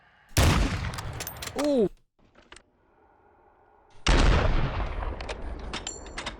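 Gunfire in the shooter game Warzone 2 comes as two loud, close bursts of sharp shots separated by a quieter gap, with a brief exclamation from a player.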